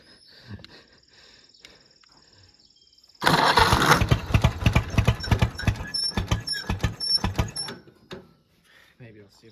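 An old Oliver 70 tractor engine cranks and sputters loudly at close range, with a rapid pulsing chug that runs for several seconds before dying away, and faint voices before and after.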